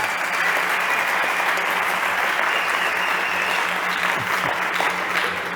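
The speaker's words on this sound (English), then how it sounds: "let's give him a big applause" Audience applause at a startup competition stage event, a dense steady clapping from a large crowd that holds evenly throughout without a break.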